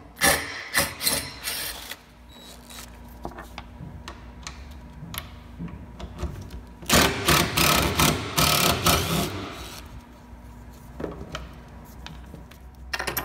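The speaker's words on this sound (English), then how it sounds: "using a T30 Torx bit, remove these two bolts by the tailgate." Bolts near the tailgate of a second-generation Honda Ridgeline come out under a T30 Torx bit, heard as bursts of rapid, whirring, ratchety clicking from a close power driver separated by quieter handling sounds, with no talking.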